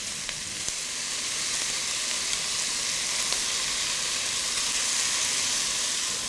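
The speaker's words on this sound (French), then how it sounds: "Puis j'ajoute la viande que l'on saisit à feu vif." Lamb meat searing over high heat in a pan, a steady, close bright sizzle with faint crackles running evenly throughout, no voices.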